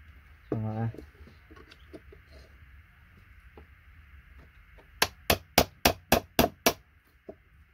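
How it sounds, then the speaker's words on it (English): A steel chisel is struck with a hammer to crack apart ceramic oscillators for scrap, giving a quick run of about seven sharp, ringing metallic blows near the end, after a quieter stretch with a brief voice and faint birdsong. "you want to make sure your chisel's straight when you're hammering it"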